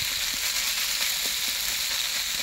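Banana flower fries with spices in a pan, giving a steady, loud, close sizzle with faint stirring scrapes.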